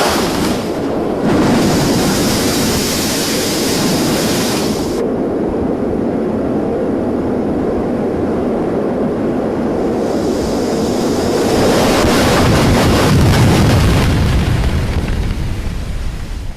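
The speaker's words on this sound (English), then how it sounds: "The crew must have been struggling to fight the wrath of the sea." Stormy sea waves crash loudly and close, a continuous roaring surge with heavy wind buffeting the microphone, swelling into stronger bursts at the start and again near the end.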